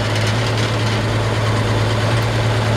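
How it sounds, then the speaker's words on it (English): Idling 1951 Chevrolet 3100 pickup truck with a 216 six-cylinder engine, a steady low rumble close by with a light buzzing rattle from the loose license plate riding on top throughout. "that license plate's rattling"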